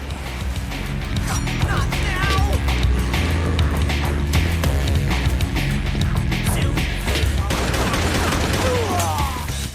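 Loud, rapid gunfire crackles almost nonstop from shotgun blasts in a co-op sandbox match of Dead Rising 2: Off the Record, dense and close, with game noises and players talking over it.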